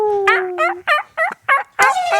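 A person imitates a turkey gobble in a turkey calling contest, a loud, close rapid series of about five warbling gobble bursts with a strong opening note, heard alone without talk.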